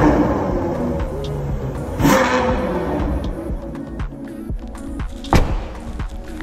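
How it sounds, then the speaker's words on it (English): A 2020 Ferrari 812 Superfast V12 rumbling loudly at close range, with a rise in engine pitch and thumping bursts, including a sharp blip near the end. "let's hear how aggressive this A12 Superfast is"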